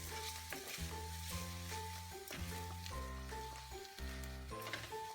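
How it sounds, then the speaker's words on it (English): Rice grains crackle and sizzle softly as they toast in a thin coating of oil in a pan for mushroom risotto, a faint steady frying texture beneath louder tonal music. "You can hear the rice is making a little bit of a crackling noise now"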